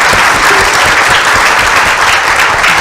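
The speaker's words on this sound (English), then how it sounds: "please give him a round of applause" Dense, steady applause from a conference audience at a media festival, loud and close, with continuous clapping filling the full length without pause.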